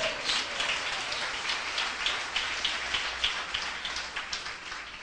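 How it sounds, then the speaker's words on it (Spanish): A church congregation claps in a dense, even patter of many hands, sustained and fairly close, with no voices over it. "Un fuerte aplauso al Señor"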